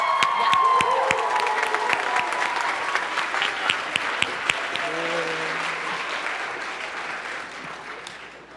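An audience at a high school event applauds and cheers for Parkway Northwest High School for Peace and Social Justice, with loud sustained clapping, whoops and crowd voices that gradually thin out toward the end.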